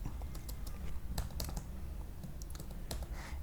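Typing on a computer keyboard, a quick irregular run of close key clicks over a steady low background hum, with no talking.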